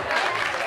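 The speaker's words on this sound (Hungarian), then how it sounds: "Egy nagy tapsot neki!" An audience at a school carnival costume show applauds with a brief, dense spell of clapping that holds at an even level throughout.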